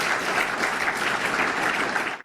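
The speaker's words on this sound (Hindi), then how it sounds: "जोरदार ताली बजाएं।" Loud, steady applause from a school audience at a spiritual and yoga gathering, a dense wash of many hands clapping continuously for about two seconds before cutting off abruptly.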